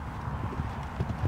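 A horse canters in a riding arena, its hooves thudding in a quick rolling rhythm, close by and fairly loud, with no talk over it.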